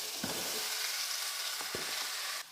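Pumpkin pieces sizzle in a pan with onion and tomato for a Goan pumpkin curry, a steady close frying hiss broken by a few soft stirring knocks.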